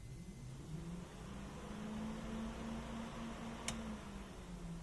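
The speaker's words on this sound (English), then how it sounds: "Water pump kicks on." An electric water pump switches on during a cold start of a turbocharged LQ9-swapped Nissan 350Z, settling into a steady low whine that holds under a constant background hum, with one brief click near the end.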